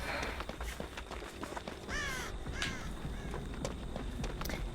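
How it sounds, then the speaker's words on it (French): Crows cawing in the horror video game Dead by Daylight, a few harsh caws around the middle over a low game ambience with soft footstep-like taps. "Les corbeaux ils sont là juste pour faire du bruit, pour nous poucave"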